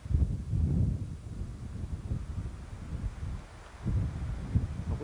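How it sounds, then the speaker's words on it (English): Gusty wind buffets the microphone in low rumbling waves, rising and easing over several seconds with no voices. "A windy day here on the Haylings,"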